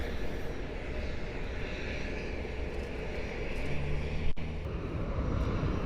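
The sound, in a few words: Southwest airliner arriving at Cleveland airport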